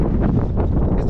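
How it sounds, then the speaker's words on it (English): Strong wind gusting across the Nevada desert, buffeting the microphone with a steady, loud roar and no voices. "It's cold and it's windy. I hope you can hear me."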